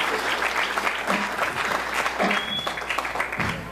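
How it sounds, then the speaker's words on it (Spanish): A church wedding congregation breaks into applause, a lively, close wash of many hands clapping that continues steadily for a few seconds. "Demos un aplauso al Señor por su palabra."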